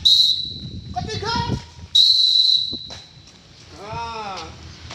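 Short, sharp, shrill whistle blasts signal a physical education class, with one at the start and another near the two-second mark. Bursts of talk and background movement fall between them.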